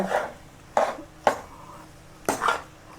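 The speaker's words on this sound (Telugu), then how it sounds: "ఇదిగోనండి, గిన్నెలా పట్టుకుని మనం కలుపుకుందాం." A spoon stirring garlic curry with sesame flour in a metal pot: four or five sharp scraping clanks against the vessel at uneven intervals, close and clear with no talk.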